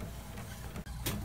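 An Epson inkjet printer running refillable non-OEM T252 cartridges prints pages, giving a steady low mechanical hum with a faint click and a brief whir of carriage movement.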